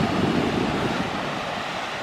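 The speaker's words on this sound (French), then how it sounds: "Hop, et des mini cascades." Small mountain cascades on a hiking trail near Lac d'Arsine in the Écrins, Le Monêtier, make a steady rushing water noise mixed with wind buffeting the microphone, continuous and fairly close.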